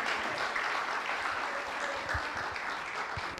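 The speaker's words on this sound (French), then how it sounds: "vous méritez tout applaudissement" A crowd applauding steadily, a dense patter of many hands clapping throughout without a break.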